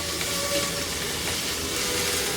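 Chopped garlic, ginger and onion frying in hot oil in a pan, a loud, steady broadband sizzle that stays even and continuous throughout.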